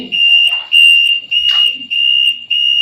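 A shrill, steady electronic buzzer alarm from a drowsiness-detecting helmet, beeping in repeated sustained tones with short gaps, loud and close, with faint background clatter in between.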